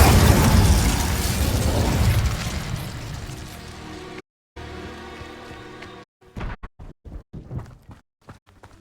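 Spells fired and exploding in a Harry Potter video game, a loud dense stretch of blasts and rumbling for several seconds, then a brief gap and a scatter of sharper separate bursts and pops.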